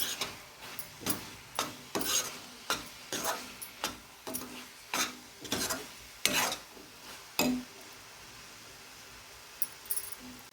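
Coconut laddu mixture being stirred in a pan, with a steady rhythm of rasping scrapes roughly every half second, close and moderately loud, with no voices.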